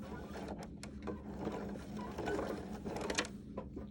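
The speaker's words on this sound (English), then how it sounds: "now I'm just going to sew it together. I'm going to back stitch a little in the beginning." Sewing machine runs a seam with a short back stitch at the start, giving a close, steady mechanical whirr with light rhythmic ticking, at a modest level and with no talking.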